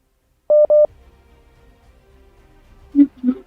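Telephone keypad tones sound as a phone is reset: two loud, identical beeps close together, then quiet, then a couple of lower, softer tones near the end.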